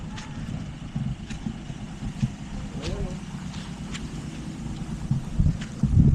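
A boat motor runs steadily with a low rumble and wind buffeting the microphone, while people talk nearby over the engine.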